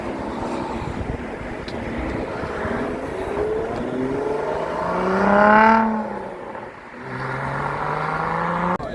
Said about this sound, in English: Let's grab this Lotus. Sounds good. Sounds quiet.